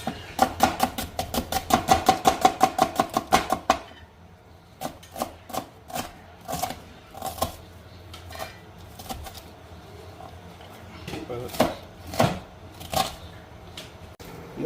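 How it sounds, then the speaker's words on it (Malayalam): Onions being chopped into small pieces with a knife on a board, a fast, steady run of close, sharp knife taps for about four seconds, then slower, scattered cuts and clacks. "ഉള്ളി അരിയുമ്പോൾ വേഗം അരി ചെയ്യണം"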